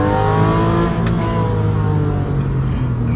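A Porsche 911 997.1 Carrera 4S engine revs loudly and close by, holding a steady, sustained note with a hard, harmonic drone and no voices.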